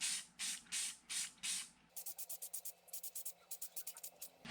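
Crystal clear enamel is sprayed from an aerosol can onto a wooden cherry burl square bill crankbait, first in five longer hissing bursts, then in a quicker run of short, sharp puffs, close and isolated.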